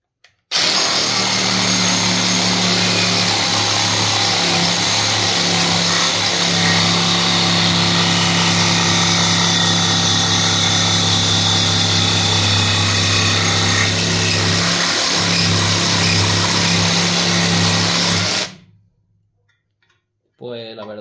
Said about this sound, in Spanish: ahora voy a cortar este perfil de hierro